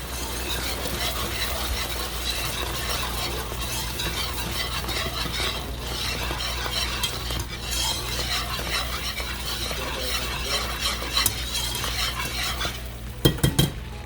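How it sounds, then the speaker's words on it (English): A mixture whisked in a pot on the stove, with a rapid steady rhythm of whisk strokes against the metal over a constant background hiss, close and continuous, with a few louder clinks near the end. "I'm just going to whisk this together."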